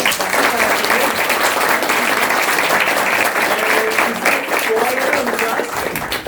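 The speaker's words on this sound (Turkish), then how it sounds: "Güçlü alkışlayalım diye." Strong, steady applause from an audience at a youth workshop's year-end theatre play, dense and loud throughout with a light crowd murmur beneath.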